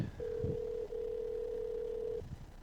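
A steady electronic ringback tone sounds for about two seconds, with brief low thumps near the start and end.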